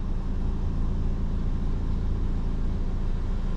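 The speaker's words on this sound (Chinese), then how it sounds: "目前怠速非常的稳定。" A Toyota Yaris engine with a 1-litre motor and 260,000 km on it idles steadily up close, giving a low, even, unbroken hum with no talking over it.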